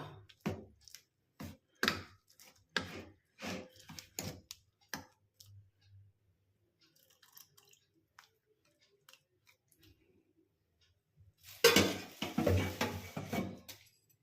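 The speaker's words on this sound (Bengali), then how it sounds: "এই অল্প করে করে দুধ দিয়ে আমি এইটার এই গোলাটা তৈরি করে নেব" Batter whisked with milk in a bowl, heard as a run of close, sharp clicking and tapping strokes, then a quiet pause, then a burst of busier, louder mixing toward the end, no talk.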